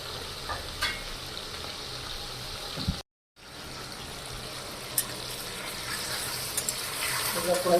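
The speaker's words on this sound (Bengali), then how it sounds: "এই যে পড়ে গেছে চিকেন ভাজছে এখন" Chicken pieces frying in a pan while being made Peshawari style, with a steady dense sizzle and occasional stirring, broken by a brief silent gap; near and fairly loud throughout.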